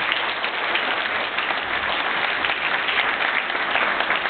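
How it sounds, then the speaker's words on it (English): Sustained audience applause after a talk at a community center, a dense, steady patter of many hands clapping at an even, fairly loud level throughout. "One more time, a huge round of applause for Mark Haffner."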